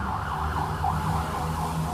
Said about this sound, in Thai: รถพยาบาลผ่านไปแถวนี้